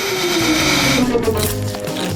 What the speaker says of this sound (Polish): A teraz nadszedł czas, aby je zjeść. Uruchamiam odkurzacz.